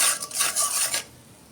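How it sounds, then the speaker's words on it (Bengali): Spices with water, coriander powder and salt are stirred in a cooking pot, a quick run of close scraping and rubbing strokes lasting about a second before falling quiet, with no talk. "এখন একটু নেড়ে চেড়ে নিই।"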